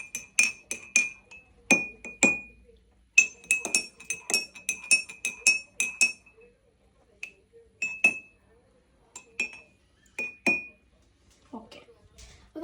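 A small spoon clinking against a glass while stirring Irani chai, with bright, close, rapid taps in bursts, then sparser single clinks with pauses between.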